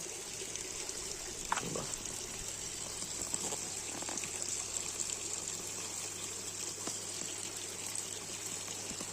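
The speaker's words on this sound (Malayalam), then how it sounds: "വെള്ളം തുറന്നു വിട്ടിരിക്കുകയാണ്." Water from an opened tap runs steadily into a garden pond, a continuous trickling gush at moderate level with no talk.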